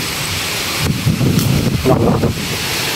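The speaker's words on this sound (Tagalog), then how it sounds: "Lakas ng hangin." Strong typhoon wind buffets the microphone in rough gusting rushes, with rustling noise swelling and fading over a few seconds.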